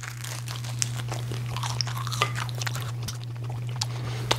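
Someone bites and chews a buttered sourdough English muffin, crisp crunches and crackles repeating steadily up close over a constant low electrical hum, with no talking.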